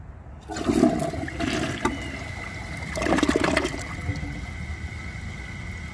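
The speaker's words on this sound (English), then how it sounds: "For the first test, let's see if it can take a washcloth." A 2014 Delta Corrente 1.28-gallon toilet flushes a washcloth with a loud, close rush of water that surges twice, then settles into a steady refill trickle.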